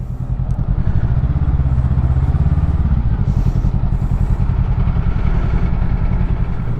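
A Honda CMX500 motorcycle rides through town traffic, its engine a loud, close, steady low throb with a rapid pulsing rhythm and little change in pitch.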